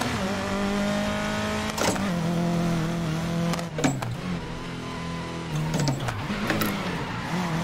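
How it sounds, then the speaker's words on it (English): Car engine in the racing video game GRID 2019 holds a steady hum, with several sharp pitch dips and swells as the e-brake is tapped and the car slides, fairly loud and continuous with no talk. "Let me actually test out just my e-brake a little bit."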